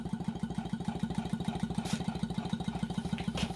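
A steam engine built from a car air conditioning compressor running at a steady pace, a rapid regular chuffing beat with even repeated pulses, close and alone.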